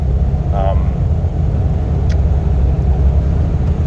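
A 1997 GMC K2500 pickup with a 454 engine and 4.10 gears cruises at about 2,000 RPM and 65 mph, giving a steady, loud low rumble of engine and road noise inside the cab, with a brief faint voice.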